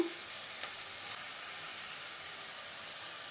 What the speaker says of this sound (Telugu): ఎర్రగడ్డ పచ్చిమిర్చి కాసేపు మగ్గిద్దాము